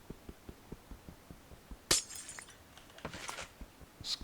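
Glass breaks in a video game with a sharp shattering crash, followed by tinkling fragments, over a faint steady ticking pulse in the background.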